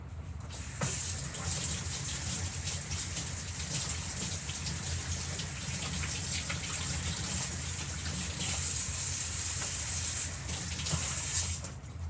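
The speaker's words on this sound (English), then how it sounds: "I'm just going to go wash my hands real quick" Tap water runs steadily into a sink during handwashing, a close, continuous hiss and splash with slight changes in flow, no talking.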